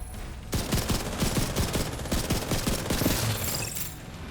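Sustained automatic gunfire in the shooter The Division 2, a rapid string of loud shots about a dozen strong in steady rhythm over a dense, rumbling battle backdrop, close to the listener.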